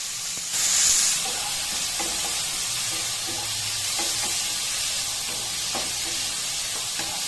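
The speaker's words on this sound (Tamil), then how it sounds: "வெங்காயம், தக்காளி நல்லா வதங்கணும்" Onions and tomatoes sautéing in a pan for Tamil pakoda kuzhambu gravy, a steady soft sizzle and hiss with faint occasional stirring taps, close and continuous without talk.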